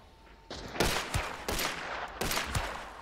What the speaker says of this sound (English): Is that an exploding bolt at me?